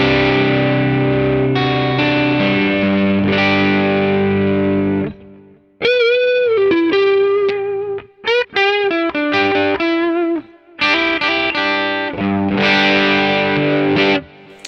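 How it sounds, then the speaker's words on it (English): Electric guitar through a Mooer Preamp Live on its US Classic Overdrive channel, a smooth, mildly broken-up tone with sustained chords, a brief single-note phrase in the middle, then more ringing chords; loud and close, no talking. "my second channel on the red bank is the US Classic Overdrive"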